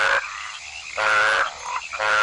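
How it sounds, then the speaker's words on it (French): A loud, close chorus of frogs croaking in repeated overlapping bursts with brief gaps between them, and no voices. "La cacophonie des chants en compétition peut sembler assourdissante, mais les oreilles des grenouilles ne sont branchées que sur les chants de leur propre"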